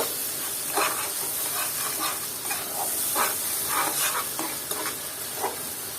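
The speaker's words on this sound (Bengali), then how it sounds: "আবারও মশলাটা ভালো মতো আমি কষিয়ে নিব" Spice paste frying in oil in a pan for a mixed vegetable curry, a continuous close sizzle and hiss broken by repeated scraping stirs of a spoon, with no talking.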